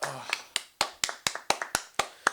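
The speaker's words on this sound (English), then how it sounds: "Round of applause for the boy." A single person clapping slowly and unevenly, about ten sharp, close claps spaced roughly a quarter second apart on a football talk show, with a brief voice at the very start.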